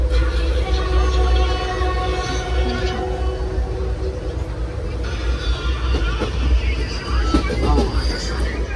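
Inside a packed passenger train bound for Benaras, a heavy low rumble of rolling carriages runs throughout, with a crowd murmuring and voices talking over the steady rattle and occasional clatter.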